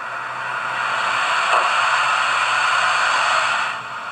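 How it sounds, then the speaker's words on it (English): Cylinder drain cocks on a Hornby BR blue Merchant Navy OO gauge model steam locomotive let out a steady, close hiss of steam that rises, holds for about three seconds and tapers off at the end, with no voices. "Function 15 is the cylinder drain cocks."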